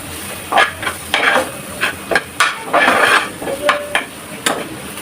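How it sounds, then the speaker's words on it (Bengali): Ground turmeric and red chilli powder being stir-fried in a pan for an egg masala curry with ghee and green chillies: repeated scraping, clattering strokes of a utensil against the pan in an irregular rhythm, close and fairly loud, no talking. "এবার একটু ভালো করে কষিয়ে নেব"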